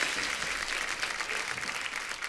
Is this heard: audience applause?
yes